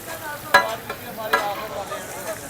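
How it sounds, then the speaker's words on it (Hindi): Food fries at Arif Chatkhara House, a Lahore street food stall, with a soft sizzle and two sharp scraping stirs of a utensil in the pan. "ये इसको इसी तरह फ्राई करते हैं"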